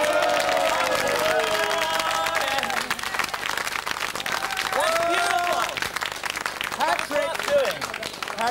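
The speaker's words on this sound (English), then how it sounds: "Give yourselves a big round of applause." A television studio audience claps and cheers after a singalong of a rock anthem, with a presenter talking over the sustained applause.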